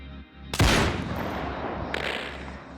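A single loud sniper rifle shot in the VR shooter Ghosts of Tabor cracks sharply and booms, then its echo rolls away across an open hillside range. A second, fainter report follows after a short pause.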